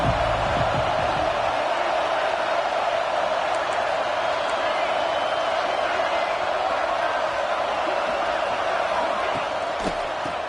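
A stadium crowd in the College Football 26 video game keeps up a dense, steady roar, loud and unbroken throughout, with a commentator talking over it.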